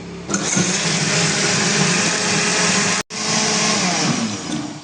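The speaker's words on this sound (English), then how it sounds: "put it into the blender and turning on" Electric blender grinding fenugreek seeds at full speed, a loud, steady close whir that cuts out for an instant partway through and then resumes alone.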